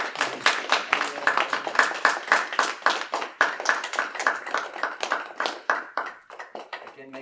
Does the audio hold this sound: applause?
yes